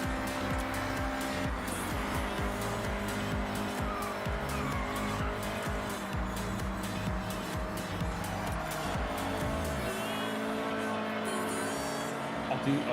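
Race cars in Forza Horizon 6 roar continuously up close, with repeated gear-shift pulses and tire squeal from skidding, the engine note easing off toward the end.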